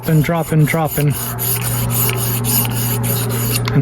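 A knife is sharpened on a roller sharpener, giving a close, continuous gritty rubbing with faint rhythmic scrapes, after a short burst of voice-like sound at the start.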